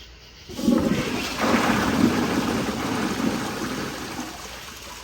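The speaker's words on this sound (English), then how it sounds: "we'll do another flush and see if that helps at all" A Kohler Kingston 1.6 gpf toilet flushes, a loud rushing surge of water that swells after a quiet start and keeps roaring steadily to the end, with no voices.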